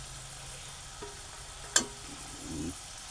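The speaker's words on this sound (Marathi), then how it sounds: "हा पाला आपल्याला थोडासा परतून घ्यायचा" Quiet sizzle of purslane leaves frying in a pan, with a single sharp clack of a spoon against the pan partway through.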